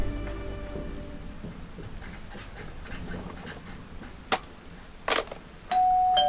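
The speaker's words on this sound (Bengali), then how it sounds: "সে কি প্রচণ্ড বৃষ্টির তেজ।" Steady, heavy rain hisses throughout, with a couple of sharp bursts and a ringing doorbell tone near the end.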